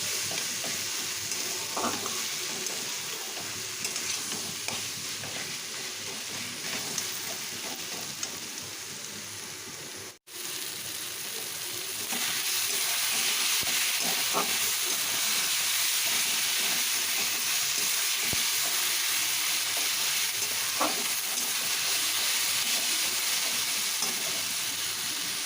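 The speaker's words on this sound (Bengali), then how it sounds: "পেঁয়াজ, টমেটো, রসুনটা আমি ভেজে নিচ্ছি।" Onion, tomato and garlic fry in a pan for a matar ghugni, giving a steady, close sizzle with occasional stirring scrapes, a brief dropout near the middle, then a slightly louder, continuous frying hiss.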